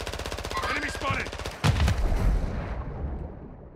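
Video game gunfire: a rapid automatic burst of shots, then a heavy boom midway that trails off into a fading rumble, loud and close with no talk.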